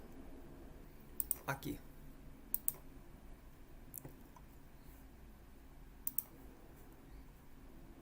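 Sparse mouse clicks, a few single and paired taps spread through the stretch, while a circle is drawn in SolidWorks CAD software, faint under a low room hum with someone speaking briefly.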